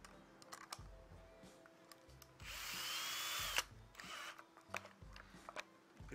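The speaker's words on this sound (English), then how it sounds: "Whenever I go on tour, I always take my cordless drill with me." A cordless drill whirs in short bursts and one longer sustained run while spooling braided fishing line from a bulk spool onto a reel, close and fairly loud, with clicks and handling noises between the bursts.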